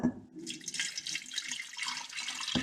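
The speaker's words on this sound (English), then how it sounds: "I want to put a little bit of water in there." Water poured from a tap into a container holding piloncillo for pineapple tepache, a short, soft splashing trickle at close range with no talking.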